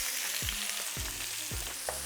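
Finely diced yellow onion sizzles in neutral oil in a pan, a constant close frying hiss broken by a few soft stirring scrapes.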